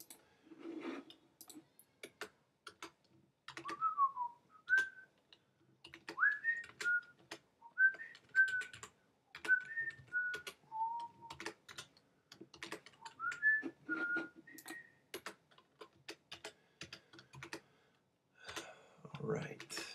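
A person whistles a melodic tune in short phrases, close and fairly quiet, with light keyboard typing and clicking scattered throughout.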